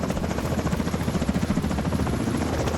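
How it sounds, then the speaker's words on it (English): A helicopter in The Division 2 video game drones loudly and steadily, its rotor thump pulsing in a continuous rhythm throughout with a faint background buzz. "Can we not just take out this chopper?"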